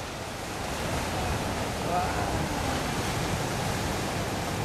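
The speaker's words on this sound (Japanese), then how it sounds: "向こうの波がすごいあれも来るよあれも来るわ" Ocean surf on Easter Island rolls in a steady, broad roar, swelling slightly as a wave breaks, with a faint voice in the background.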